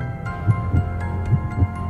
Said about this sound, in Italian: Ma il battito si faceva sempre più forte, più forte.